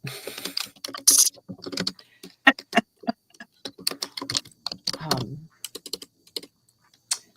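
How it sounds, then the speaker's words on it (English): Brisk, irregular tapping on a computer keyboard up close, with a short murmur of voice partway through. "Everybody can hear me typing."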